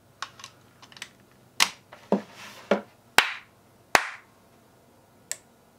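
Several sharp hand claps near the microphone are used to trigger a clap-activated outlet in a quiet room, spaced irregularly with brief pauses between them.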